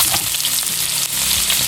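Chana dal fries in hot oil for a dhaba-style tarka, giving a loud, continuous sizzle with occasional stirring scrapes and no talking.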